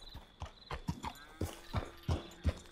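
Horse hooves clip-clop at an unhurried walking pace in the Red Dead Redemption 2 video game, a string of distinct, fairly close hoofbeats with a faint whinny-like tone among them.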